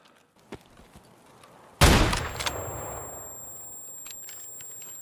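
Gunfire in Escape From Tarkov: a few faint distant shots, then a sudden loud close burst that rings out and slowly decays, with a couple of lighter cracks trailing after it.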